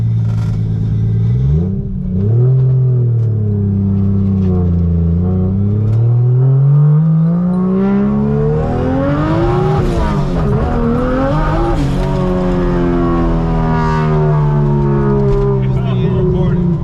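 A 240SX S13 hatchback with a swapped 1JZ VVTi engine pulls away and accelerates, the loud engine note rising and falling through the gears with some tire noise, while people talk inside the car.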